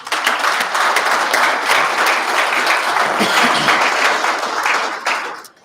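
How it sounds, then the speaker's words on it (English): A crowd at a Coast Guard District 13 change of watch and awards ceremony breaks into loud, full applause that holds steady for about five seconds before fading out quickly. "I just want to give a round of applause just for that."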